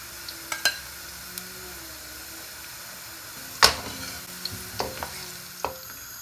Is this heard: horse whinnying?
no